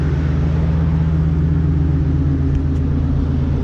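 Idling V10 engine of a Lamborghini Gallardo e-gear with an aftermarket exhaust, a deep steady rumble heard up close with no voices.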